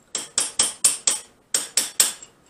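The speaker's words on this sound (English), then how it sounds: "I take a little chisel and my little bulky hammer and just knock any" A small bulky hammer drives a little chisel to knock weld spatter balls off the steel of a C-frame guillotine kit. Eight crisp, ringing metallic blows land close by, in a run of five and then three after a short pause.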